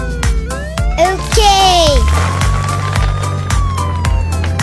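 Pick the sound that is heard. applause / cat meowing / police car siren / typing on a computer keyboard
police car siren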